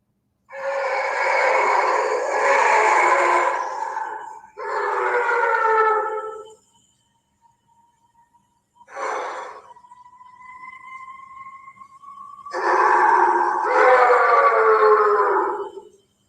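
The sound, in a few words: recorded howling of several animals at night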